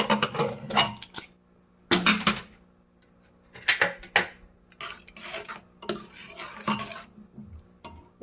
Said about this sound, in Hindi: अब हम प्रेशर कुकर का ढक्कन खोलेंगे।